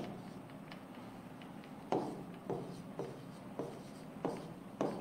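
Chalk or marker strokes on a classroom board during an English grammar lesson, a series of distinct scratchy taps and short strokes at an irregular rhythm over a quiet room hum, close and moderately clear.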